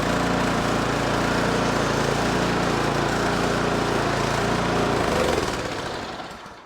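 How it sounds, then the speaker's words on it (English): Small engine of a Husqvarna snow thrower running with the choke off and surging, a loud close steady chugging drone whose pitch wavers before it winds down toward the end. "I took the choke off and it's surging, but it's getting better."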